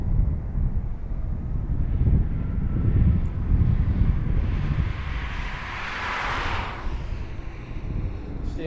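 A fixed-wing airliner approaches Philadelphia airport on a windy morning, its engine roar building as a steady, moderately loud rumble that peaks, then fades, with wind buffeting the microphone throughout.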